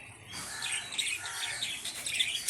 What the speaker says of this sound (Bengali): আমাদের পাখিগুলো খুব দুষ্টু করছে, চিল্লাচিল্লি করে যাচ্ছে